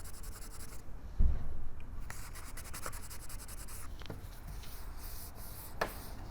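Dried polyurethane finish is hand-sanded with soft, quiet scratchy rubbing strokes to remove bubbles, with a brief knock partway through and a few faint clicks.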